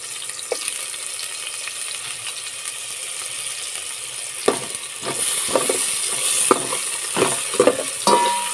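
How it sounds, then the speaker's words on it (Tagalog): Onion and ginger sauté in a hot pan, a soft sizzle at first, then louder scraping and clattering stirring strokes of a utensil against the pan in the latter half, close by. "Dahil mainit na yan guys, ilagay na natin ang sibuyas at saka luya."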